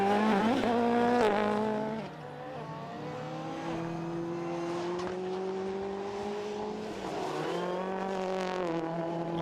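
A rallycross race car at Lydden Hill flicks through a chicane on the last lap, its engine revving high and loud, dropping briefly, then climbing again, with tire noise mixed in.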